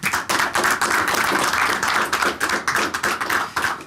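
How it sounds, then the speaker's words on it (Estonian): Audience at a sports academy event gives a loud round of applause for a marathon skier, close, brisk individual claps forming a steady burst. "Aplaus!"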